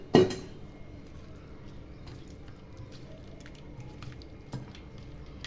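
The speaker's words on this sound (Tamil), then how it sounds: "சின்ன லெமன் தான்மா, அதனால் 2 பாதியும் பெஞ்சிடுறேன்." Small lemon halves squeezed by hand over fish masala: one sharp wet squish at the start, then faint soft drips and light squishes with an occasional small clink, close and quiet.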